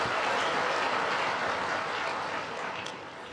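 A large audience applauds steadily and loudly for the whole stretch, the dense clapping fading slightly toward the end, with no talking over it.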